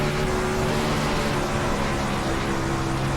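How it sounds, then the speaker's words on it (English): Sprint car with a rear wing in the iRacing sim, engine screaming steadily at high RPM and bouncing off the rev limiter, a loud continuous roar with no talk over it. "You heard us bouncing off the chip there, the limiter at the very end."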